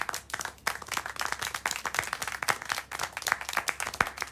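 Applause sounds in the video game Syberia The World Before: a close, busy run of hand claps from several people, rapid and irregular, carrying on steadily with no voices over it.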